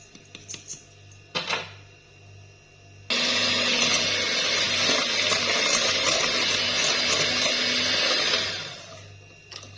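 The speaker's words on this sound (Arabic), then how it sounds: "هنايا غادي نخلط كلشي مع بعض" Electric mixer beating crocket batter of eggs, sugar and oil, starting abruptly after a few light knocks and whirring steadily and loudly for about five seconds before winding down.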